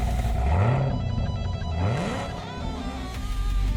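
Supercharged 6.2-liter LT4 V8 in a 2016 Chevrolet Camaro ZL1 revving: two rising throttle blips climb sharply in pitch, then a steadier loud engine drone with some tire noise, close and without talk.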